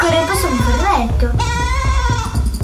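Minecraft sheep bleating in a game, several wavering bleats in quick succession over background music, loud and close.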